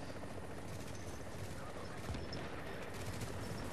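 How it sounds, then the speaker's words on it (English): Helicopter in The Division video game during Dark Zone play: a continuous loud rotor roar with a dense rumbling wash, and faint gunfire mixed in. "Oh, this chopper's still there."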